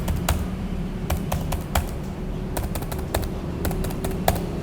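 Crisp keystrokes on a computer keyboard entering input characters during a binary exploitation exercise, clustered runs of quick taps with short pauses, close and clear, with no talk.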